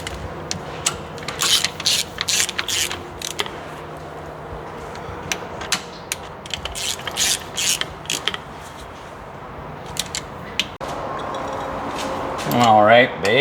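Bolts with lock washers are snugged up by hand with a ratchet, giving quick bursts of rapid clicking repeated over several seconds, close and moderately loud, with a voice speaking near the end.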